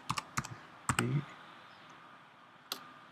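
Clattery keystrokes on a computer keyboard, a few quick clustered clicks followed by a longer pause and one last tap, close and clear with no talk.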